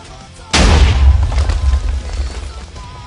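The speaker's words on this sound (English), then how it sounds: "determine how far away the TNT is before it blows up" A single loud, deep boom from a semi-automatic TNT cannon in Minecraft, bursting suddenly after a quiet moment and rumbling as it slowly fades.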